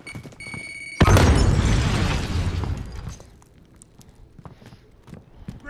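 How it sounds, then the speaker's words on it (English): A grenade detonates in Call of Duty: Modern Warfare with a sudden loud boom that rolls into a long, rumbling decay over a couple of seconds, followed by quieter footsteps and faint clatter. "Grenade out!"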